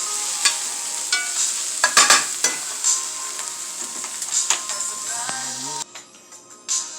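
Fried meatballs are stirred into spaghetti sauce in a pot, with clinks and scrapes of a utensil over a constant sizzle, heard up close and loud throughout.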